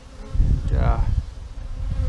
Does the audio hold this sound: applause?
no